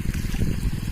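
Water overflows in a crop field, a brief close burble and trickle of flowing water with no voices.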